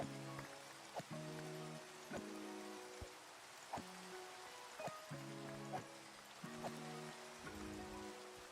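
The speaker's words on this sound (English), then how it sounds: "but it is raining, I guess" Rain falling in the Minecraft video game, a faint steady hiss of pattering drops under repeated short game sound effects and clicks.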